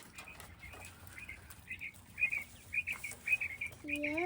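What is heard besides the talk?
quail chirping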